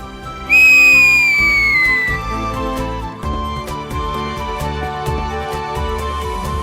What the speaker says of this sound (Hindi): देखो सीटी ऐसे मारते हैं।